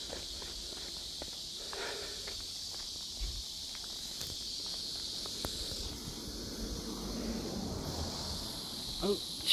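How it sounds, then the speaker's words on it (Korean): A steady, high-pitched insect drone of cicadas buzzing outdoors hums faintly in the background, under scattered footsteps and light rustling. "매미 소리가 나고."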